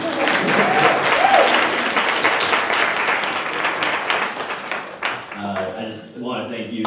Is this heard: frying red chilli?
no